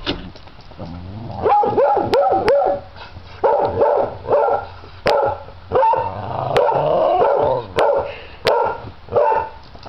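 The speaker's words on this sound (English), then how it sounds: "Hi, puppy! Hi, cute girl!" A pet dog barks and yips in short bursts, some in quick clusters and some spaced apart, close by and loud, with occasional sharp clicks between the barks.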